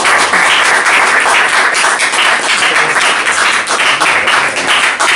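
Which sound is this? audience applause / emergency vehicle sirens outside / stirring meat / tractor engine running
audience applause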